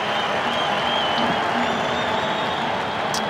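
A cricket crowd at the WACA in Perth applauds, a dense and steady wash of clapping from a large stadium audience that holds evenly throughout, heard at a distance without talk over it.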